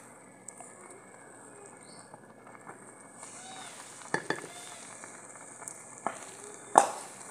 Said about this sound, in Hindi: उत्तों आप ढक देंगे, लो अपना साग रिझना शुरू हो गया।